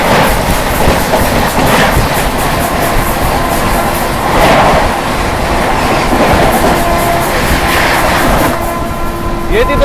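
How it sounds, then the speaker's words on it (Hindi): The Delhi–Sitamarhi Amrit Bharat Express rolls past close by with continuous loud rumbling and rhythmic clickety-clack of wheels over rail joints, fading slightly toward the end. "ये थी दोस्तों दिल्ली सीतामढ़ी अमृत भारत एक्सप्रेस"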